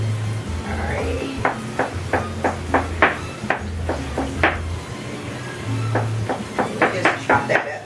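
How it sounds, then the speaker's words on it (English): Knife chopping on a board while making soft tacos with carne and cabbage, a quick series of sharp close taps in bursts over a low background hum. "Just chop that up nice and fine."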